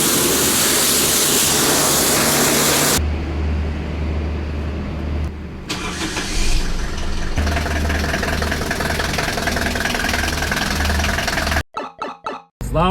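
A Lada Zhiguli prepared for winter drifting, its engine running loudly up close with a rough idle and changing revs, the sound shifting abruptly as it drives, ending with a few choppy bursts.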